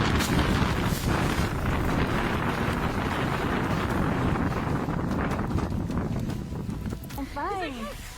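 Strong wind gusts from a dust devil in the Gobi desert roar as a loud, continuous broadband rush against the microphone, steady throughout, with a brief warbling tone near the end.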